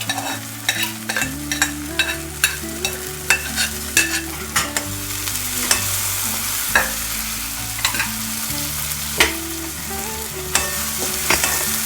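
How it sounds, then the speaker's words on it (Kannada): Green peas frying in a pan for ragi shavige upma, with a steady sizzle under repeated spatula scrapes and stirring taps at an even rhythm, close and fairly loud, no talk. "ಬಟಾಣಿನೂ ಸ್ವಲ್ಪ ಹೊತ್ತು ಹಾಕಿ ಫ್ರೈ ಮಾಡೋಣ"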